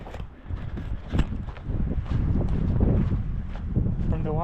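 Strong wind buffets the microphone on a mountaintop along an ultramarathon trail, a loud continuous roaring rumble close up, with a person talking over it.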